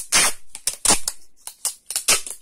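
Office adhesive tape torn by hand without scissors after being wound around the hand, giving several short, sharp ripping bursts close up with brief gaps between them.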